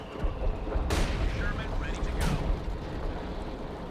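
Mortar rounds land in a Company of Heroes 2 battle, two sharp booms over a constant rumble of distant gunfire and explosions, with a voice talking underneath.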